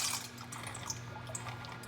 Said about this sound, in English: you pour all the noodles in the boiling water